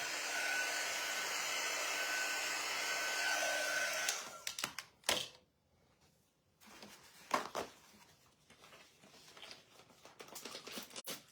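A hair dryer blows loud and steady close by while drying painted lettering on a wooden sign board, then cuts off after about four seconds, followed by scattered handling clatter and rustling.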